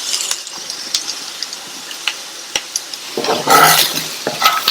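A spoon stirs potato jeera fry with freshly chopped coriander leaves in a pan, with soft scraping and light sizzling throughout and a louder burst of scraping and clatter near the end.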